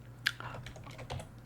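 Soft, close clicking of a computer keyboard while coding HTML, a quiet irregular patter of individual keystrokes with one sharper tap near the start, heard alone over a low hum.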